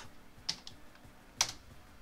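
A command being typed on a computer keyboard: a few sparse, crisp key clicks, two of them clearly louder, separated by quiet pauses.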